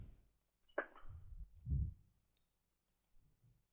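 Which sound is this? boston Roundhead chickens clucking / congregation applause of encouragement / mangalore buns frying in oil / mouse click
mouse click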